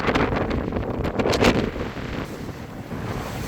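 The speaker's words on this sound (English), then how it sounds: "that wind is getting on there." Steady wind roars across a microphone aboard an old boat out on the water, forming an unbroken rushing wash with brief gusty swells and no voices.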